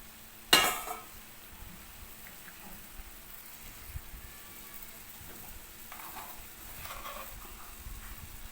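Ingredients for a taro (kochu mukhi) dalna drop into a pot of hot water with one sharp splash near the start, followed by a soft, steady simmering hiss and faint scattered clinks, with no talking.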